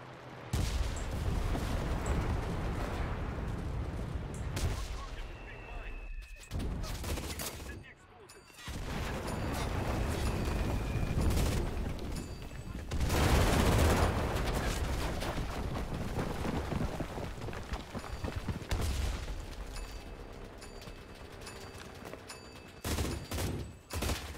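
Gunfire fills a battle in the World War II shooter Enlisted: dense, continuous volleys of rifle and machine-gun fire with heavy booms, loud and sustained, briefly dropping away before resuming, with a voice talking at times.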